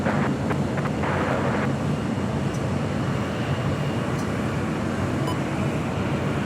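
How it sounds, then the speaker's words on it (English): A LATAM Airlines Boeing 787-9 Dreamliner, flight 603 bound for Santiago, at LAX, gives off a loud, steady jet roar mixed with wind buffeting on the microphone throughout, with no talking. "603 heading to Santiago. 787-9 Dreamliner."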